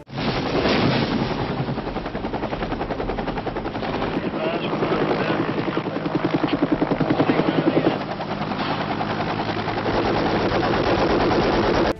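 A helicopter evacuates soldiers amid war-film combat, its loud rotor chop continuous throughout while bursts of machine-gun fire and gunshots crackle over it, with voices mixed into the din.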